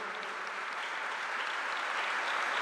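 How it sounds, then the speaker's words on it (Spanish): A crowd of provincial road workers at an anniversary celebration applauds, a steady, moderately distant patter of many hands clapping that swells slightly toward the end, with no voices over it. "Y hago yo solito un aplauso para ustedes porque se lo merecen como compañeros de trabajo"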